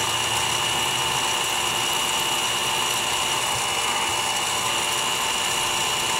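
A mini mill drills a hole with a continuous, steady high-pitched whine and grinding hiss, close and unbroken throughout with no talk.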